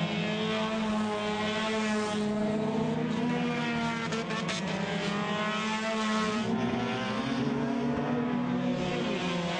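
Chevrolet Sonic one-make race cars race on a circuit with a sustained, loud engine drone and layered whining revs as several cars pass, continuous throughout without talk.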